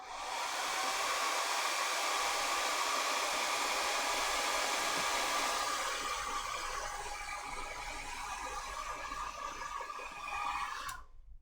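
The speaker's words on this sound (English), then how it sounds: "Blow dry." A hair dryer blows steadily and loudly on a miniature model car on a hobby workbench, a continuous airy roar for about eleven seconds that cuts off abruptly at the end, with no talking.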